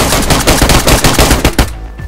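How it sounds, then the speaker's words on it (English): Gunshots in the DayZ video game: a loud rapid burst of roughly a dozen sharp automatic shots in quick rhythm, cutting off abruptly into quiet. "these shots aren't fucking hitting him"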